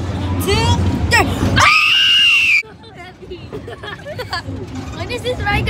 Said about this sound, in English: Look, I'm going to scream as loud as I can on three.